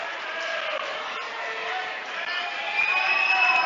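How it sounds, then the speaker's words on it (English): A high school boys basketball crowd at Peshtigo applauds the Bulldogs late in the game, a steady mid-level wash of clapping and cheering that swells slightly toward the end, with a voice talking over it. "the crowd gives the Bulldogs a huge hand."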